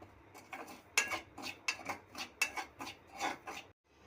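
Semolina being dry-roasted in a pan, with a spoon scraping and stirring the grains in a steady series of close, gritty strokes, no talking.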